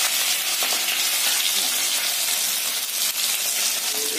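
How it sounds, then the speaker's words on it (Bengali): Onions fry with chopped garlic and dried red chilli in a pan for a home-style Bengali dal, a loud, dense, continuous sizzle heard up close with no talk. "পেঁয়াজগুলো আগে ভেজে নেবো এবং তার সাথে দেবো রসুন কুচিগুলো"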